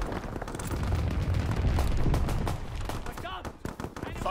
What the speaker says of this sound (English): Flat guns firing, clearing the skies.